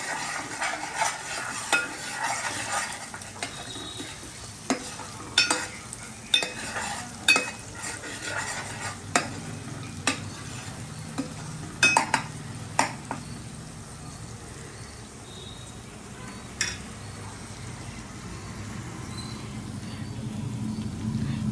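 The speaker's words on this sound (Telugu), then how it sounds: "ఇలా మిక్స్ చేసుకోవాలండి. బ్రౌన్ కలర్లో రావాలండి" Onion masala for an Andhra-style chicken and potato kurma frying in oil and stirred steadily, with a utensil scraping and tapping the pan in repeated clatters over a continuous low sizzle.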